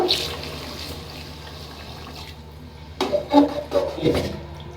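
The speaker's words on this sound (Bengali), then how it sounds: "এখন আমি একটু জল দিয়ে দেব, আমি আমার পরিমাণ মতো জল দিয়ে দেব।" Water is poured into a pot of cooking chicken, first a quiet faint trickle, then a louder burst of splashing pours and clatter near the end, with no talk.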